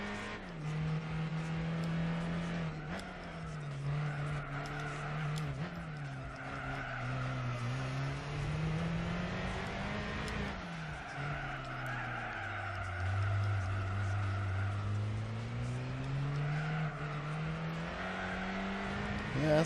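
Alpine A110 race car in Gran Turismo 4, its engine revving and droning continuously with pitch rising and falling through gear changes, with tire skidding mixed in, loud and close throughout.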